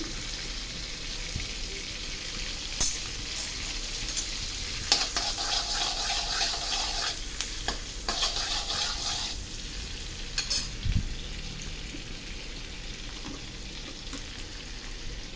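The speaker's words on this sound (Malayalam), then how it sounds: "ആദ്യം തന്നെ ഞാൻ കുറച്ച് മുറിച്ച് വെച്ചിരിക്കുന്ന വെള്ളുള്ളി എടുത്തിടുന്നു." Chopped garlic frying in a pan for Maggi noodles upma, a steady sizzle broken by clinks and scrapes of a utensil stirring against the pan, with no talk.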